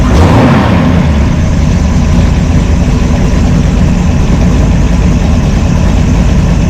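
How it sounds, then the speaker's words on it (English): A V8 engine fitted with a Brawler 650 CFM double pumper mechanical secondary carburetor, running loud and close at a steady, heavy low rumble with a brief rise in revs at the start. "Give it a little rev."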